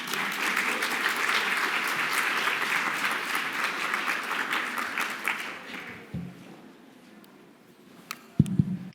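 Audience applause greets a speaker walking to the podium at a mental health conference, a dense steady clapping from a large crowd that tapers off after about six seconds, leaving a few footsteps and thumps.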